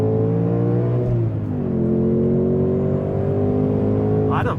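A 2024 Mustang GT with a manual gearbox and a naturally aspirated V8 revs hard toward 7,500 RPM, a loud, steady, harmonic engine roar that climbs and shifts pitch, heard close from inside the car.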